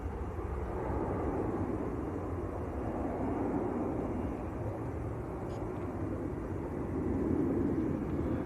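A Ryanair Boeing 737-800 departing Manchester Airport for Dublin gives a steady, moderately distant jet rumble, low and broad, swelling slightly toward the end with no speech over it.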